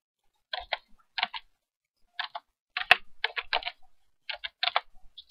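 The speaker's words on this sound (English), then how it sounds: "you can also, though, type in a word if it's not in the list." Close, crisp clicks from a computer keyboard as a word is typed, short clusters of keystrokes with brief gaps and one sharper click midway, over an otherwise silent background.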